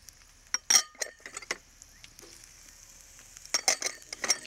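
Onions and peppers going into a pan for sofrito give scattered clinks and scraping stirs with light frying sizzle, quiet and close, no talking.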